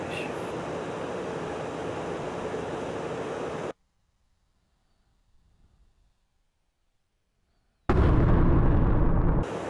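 A jet fires a missile in the DCS World combat flight simulator, a loud sustained roaring rush that cuts off abruptly into near silence, then another loud blast of roar bursts in near the end.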